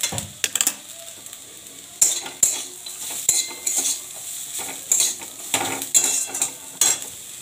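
A metal spatula breaks up lentil dumplings in a pan of frying radish with light sizzling underneath. Sharp scrapes and taps come in irregular bursts, close and clear.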